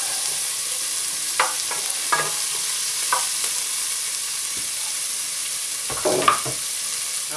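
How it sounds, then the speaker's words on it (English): Bacon and onions sizzle in a pan for clam chowder, a continuous bright hiss with a few soft clinks and stirring knocks scattered through it. No one talks. "while the bacon and onions are cooking down"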